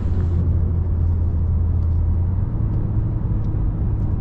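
Steady engine drone from inside a moving Mercedes A200 sedan, a constant low hum with road rumble, no voices.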